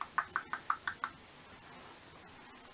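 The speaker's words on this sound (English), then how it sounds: "and she knocked on the door" Knocking on a castle door, six quick, crisp raps in an even rhythm, fairly close and followed by quiet.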